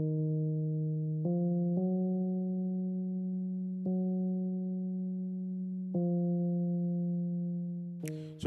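Lounge Lizard electric piano preset with tremolo, a sustained chord progression of six changing chords ringing steadily, with no one speaking.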